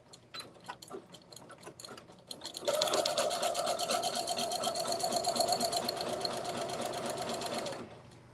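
A sewing machine stitching a quilt at a 2 mm stitch length runs in a few short bursts, then settles into a steady, continuous mechanical whirr for several seconds before stopping, close and clear.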